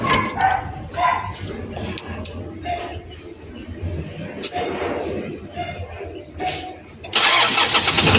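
A Hyundai D4Bx diesel engine, its injection pump just retimed, cranks and catches near the end, running loud and steady after a stretch of quiet shop noise with a dog barking and brief voices.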